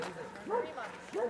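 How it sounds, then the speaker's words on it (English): Dogs barking on a desert permaculture homestead in Baja, two short yelping barks at moderate distance, partly mixed with a person talking. "Excuse the barking."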